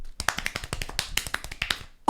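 Rapid hand claps in a quick, uneven burst of sharp, dry slaps, close and loud, with no voices over them.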